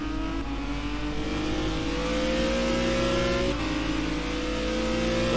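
Renault Megane race car engine heard onboard during a warm-up session at Paul Ricard, a loud steady droning note holding near constant revs with a brief shift midway, no voices.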